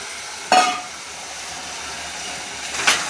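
Green onions hit a hot frying pan holding a tuver totha bean dish, giving two short bursts of sizzling and stirring about two seconds apart over a steady low background hiss.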